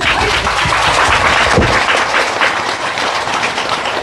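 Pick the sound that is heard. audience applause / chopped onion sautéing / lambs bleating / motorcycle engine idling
audience applause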